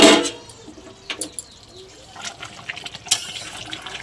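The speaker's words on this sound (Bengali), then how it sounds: "তো আমি এবারে জল দিয়ে দিচ্ছি, সিদ্ধ করা জলটাই দিয়ে দিলাম।" Boiled water is poured into a pot of mutton curry, starting with a loud splash and then settling into softer gurgles and sloshing. The pour sounds close, with no talk over it.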